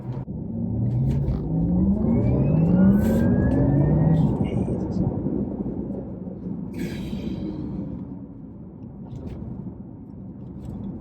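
A Porsche Taycan 4S electric car accelerates, its motor whine climbing in pitch over a steady road rumble while people talk inside the cabin.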